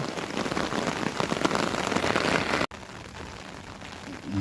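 Steady rain patters and hisses on a surface close by, with a brief cut partway through before the rainfall continues slightly softer.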